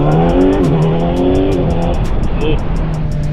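A Kawasaki Z900 motorcycle engine runs loudly and continuously while riding, its pitch rising under acceleration, then dipping and climbing again as the rider shifts, with wind and road noise throughout.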